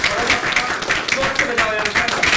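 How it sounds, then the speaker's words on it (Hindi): A room full of participants at a group discussion session claps briefly for one member, a quick burst of applause mixed with chatter and a voice talking over it. "हेमराज जी के लिए तालियां बजेगी एक।"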